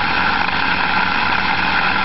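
A small permanent magnet motor runs at a steady speed, giving a constant, fairly loud whirring drone with no change in pitch or level and no talk.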